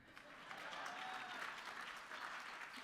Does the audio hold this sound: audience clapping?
yes